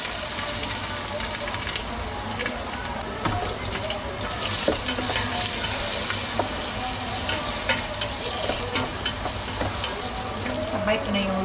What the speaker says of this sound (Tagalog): Igisa ko na itong aking bawang.